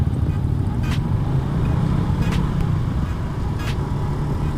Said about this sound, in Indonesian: Ada truk cok.